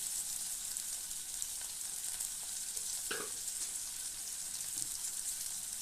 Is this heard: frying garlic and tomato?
yes